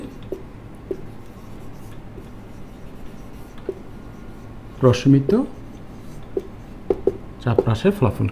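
Faint, steady scratching of writing on a board runs through a Bengali chemistry lecture, soft and continuous, with occasional light taps and a speaking voice cutting in twice.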